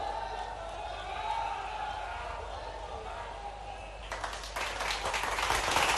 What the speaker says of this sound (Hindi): जोरदार तालियां देवियों सज्जनों